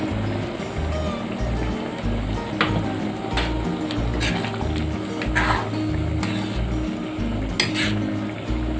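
Khar curry with raw onion and a splash of mustard oil simmers in a pot, giving a steady, continuous bubbling and hiss over a low background hum.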